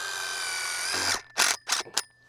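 Cordless power drill driving quarter-inch self-tapping screws into a no-dig vinyl fence post, a steady whine running for about a second, then three short bursts of the motor, close and alone.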